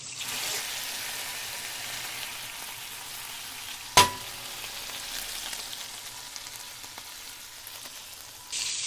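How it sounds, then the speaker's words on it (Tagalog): Flour-dredged fish frying in hot oil, a steady broad sizzle throughout with one sharp clack partway through, close and alone without talk. "At mainit na nga mantika, prituhin na natin."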